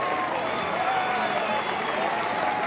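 Crowd noise fills a college baseball stadium, Clemson's Doug Kingsmore, after a wild pitch in a 2017 NCAA regional elimination game against UNCG, a steady, dense roar of cheering and clapping throughout.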